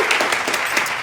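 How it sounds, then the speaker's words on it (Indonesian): A short burst of applause used as a sound effect during a casual Indonesian talk show, a dense, steady patter of clapping lasting about a second with no voices over it. "Kasih tepuk tangan apa apa."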